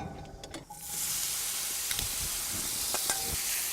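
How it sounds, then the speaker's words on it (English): Olive oil sizzling in a hot pan for pork belly with braised collard greens, starting with a few clicks and taps before a loud, steady hiss of sautéing takes over, close and continuous. "We're gonna saute that."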